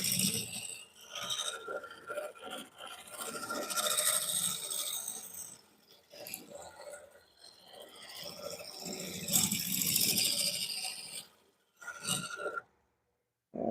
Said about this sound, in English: I think I'm going to go to a sort of a scraper here and see if we can't smooth that out just a little bit